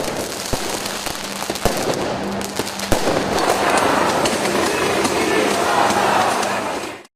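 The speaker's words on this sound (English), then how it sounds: "rioters firing fireworks and officers responding in force" Fireworks fired by rioters at a protest: sharp bangs and crackling pops burst out over the first three seconds, then a dense, sustained roar of crowd noise and crackle fills the rest before cutting off abruptly.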